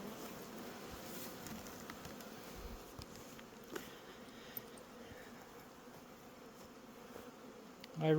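Honey bees swarm and buzz around an opened hive with crushed bees, a dense, steady drone close by that fills the whole stretch with no talking.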